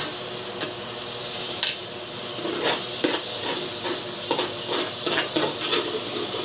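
Margarine melting and sizzling in a frying pan, a steady bright hiss with intermittent stirring scrapes and crackles.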